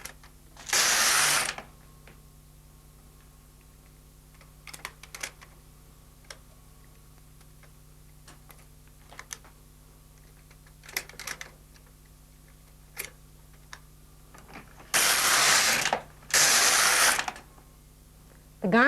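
An LK150 knitting machine at work, its carriage giving short whooshing sweeps across the bed in two bursts near the start and end, with scattered clicks and ticks of needles between, close and quiet otherwise.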